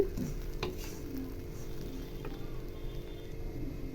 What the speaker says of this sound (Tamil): இப்போ ப்ரெட்டை போட்டு நல்லா அதை ஃப்ரை பண்ணிடலாம்